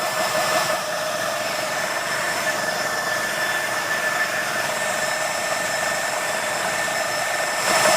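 A JTS air compressor runs steadily while filling a tank, producing a constant whirring mechanical drone with a faint high whine, unchanging and fairly loud throughout.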